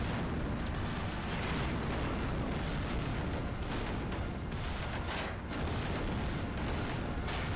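Dense battle noise from a Sega PC video game, with units firing weapons amid continuous booming, rumbling explosions and gunfire layered into a loud, unbroken roar.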